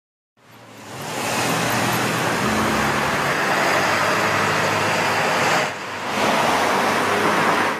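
Cars speed through a school zone on a St. Louis street near Euclid. There is a continuous, fairly loud roadway rush as vehicles pass close by, with one brief dip before the next car surges past.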